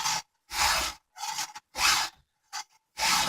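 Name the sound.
file sharpening chainsaw chain cutter teeth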